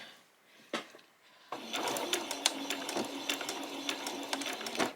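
A domestic sewing machine runs a short back stitch while a garment is sewn, starting after a quiet pause with a steady mechanical whir and rapid ticking needle clicks, close and fairly faint.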